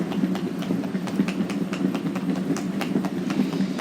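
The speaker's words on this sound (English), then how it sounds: "Here's the bullet train." A high-speed bullet train in France near Lyon, travelling about 120 miles an hour, gives a steady, loud rushing rumble with rapid rhythmic clicking from the rails throughout.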